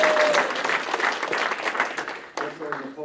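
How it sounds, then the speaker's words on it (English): A room full of people applauding in a continuous dense wash of clapping that holds steady, dips, then picks back up. "but we'll clap for Michael"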